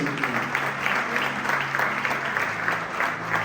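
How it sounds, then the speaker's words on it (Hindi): Loud applause fills a church service, steady dense clapping from the congregation with a faint voice underneath. "उसके लिए जोरदार ताली बजाओ।"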